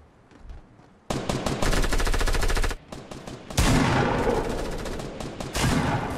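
Rapid automatic gunfire from a Fortnite match, with loud sustained bursts of machine-gun fire close up, separated by short pauses, with no talk over it.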